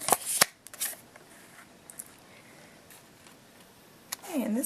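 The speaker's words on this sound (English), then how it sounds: "I'm just going to take these cards down and just do one last card" Oracle cards handled and shuffled by hand, giving a few sharp flicking bursts near the start, then quiet, soft handling with occasional ticks and a brief rustle at the end.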